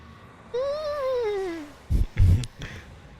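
A single drawn-out cat meow with a falling pitch from the video game Final Fantasy XIV, followed by a few short thumps and clicks.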